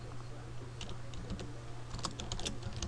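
Rapid clicking from a computer keyboard as text is typed for a website design, close and continuous, with a low steady hum beneath the keystrokes.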